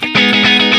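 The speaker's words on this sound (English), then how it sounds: "That's my clean sound there." A loud, short clean electric guitar tone through the S-Gear 3 amp sim plugin, with a slight edge of grit, one plucked note or chord ringing then restruck, heard up close with no voice.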